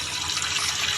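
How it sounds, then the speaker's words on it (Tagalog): A tap runs steadily during handwashing, a close, even rush of water with no voices over it. "So, maghugas na lang ako ng kamay."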